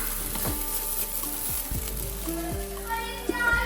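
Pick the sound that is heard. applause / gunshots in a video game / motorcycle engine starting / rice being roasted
rice being roasted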